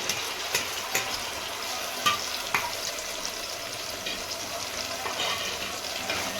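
Masala for egg biryani sautéing with tomato, a low continuous sizzle with a few faint spoon knocks against the pan, steady and fairly quiet.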